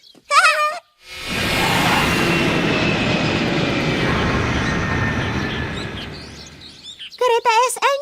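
A cartoon steam locomotive rushes past in a long, loud roar of rumbling train noise that slowly fades, with children's voices speaking briefly before and after.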